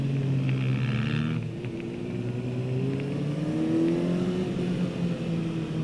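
A Kawasaki Ninja motorcycle lapping a small race track at around 40 mph, its engine droning steadily with gently rising and falling pitch, loud and close, with no talking.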